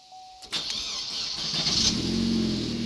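A car engine with a weak battery cranks and then catches, settling into a steady idle that builds slightly in loudness, heard up close with no talking.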